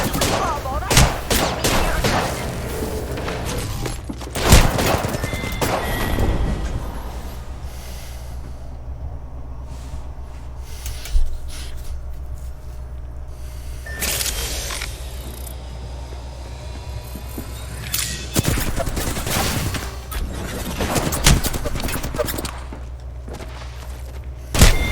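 Video game gunfire, several loud bursts and volleys scattered over a steady background rumble.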